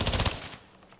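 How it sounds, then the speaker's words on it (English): Rapid automatic gunfire in a video game: a quick burst of about eight close, loud shots in the first moments, then a fading tail. "are you just gonna shoot him like that, bro?"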